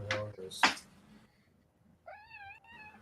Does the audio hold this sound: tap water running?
no